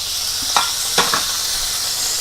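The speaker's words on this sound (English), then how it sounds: "just want to cook them up on both sides there, and until we just get a good sear on it" Four small steaks searing in a hot pan while beef Wellington is prepared, a steady bright sizzle with a few brief scrapes or spatters near the start, close by.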